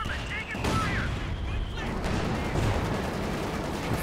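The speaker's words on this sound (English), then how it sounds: "Some major artillery coming in here." Rumbling artillery fire in the WWII strategy game Company of Heroes 2, loud dense booms and explosions layered over battle noise throughout, with a voice talking over it.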